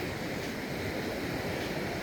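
Ocean waves roll onto a beach at Pelican State Beach, California, as a steady, broad roar of surf mixed with wind rumble.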